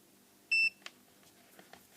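A multimeter in diode test mode gives one short, clear electronic beep at a steady pitch. It is followed by faint clicks and handling noises of the probes on a small LED lamp.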